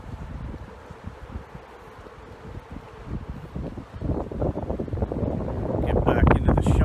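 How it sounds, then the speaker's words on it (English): Wind gusting beside a river, a broad low rumble buffeting the microphone that strengthens and roughens over the second half. "Get back into the shelter so there's not so much wind for you guys."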